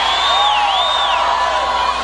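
A large, diverse crowd at an Obama rally in Florida cheers and whoops loudly and steadily, with shrill whistles rising and falling over the roar.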